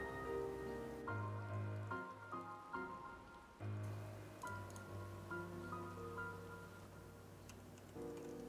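Steady rain falls over a ruined city area in Final Fantasy XIV, a soft continuous patter under melodic game music with held tones and chords.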